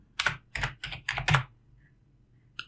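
Someone types a short word on a computer keyboard: five crisp, close keystrokes in an uneven quick run, a quiet pause, then one final key press.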